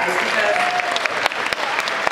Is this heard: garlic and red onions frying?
no